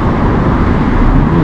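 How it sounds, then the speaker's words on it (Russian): Cars passing back and forth on Pobedy Street in Lazarevskoye, Sochi, making a loud, steady roar of close traffic with no clear gaps; no talking. "как-то очень достаточно шумно на улице Победы, если честно. Мы сейчас идем с вами, здесь машина туда-сюда, туда-сюда."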